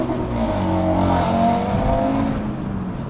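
An Audi RS3 engine revs near at hand with a steady, strong growl that swells and holds for a few seconds, no one talking.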